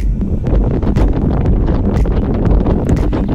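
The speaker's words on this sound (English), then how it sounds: "It's windy outside." Strong outdoor wind buffets the microphone in loud, irregular gusts and thumps, a constant roaring rush with sharp bursts scattered throughout and no speech.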